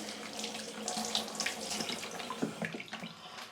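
Tap water runs steadily into a sink while someone rinses their face after using a creamy jelly cleanser, a close, continuous splashing stream with small splatters and no talk.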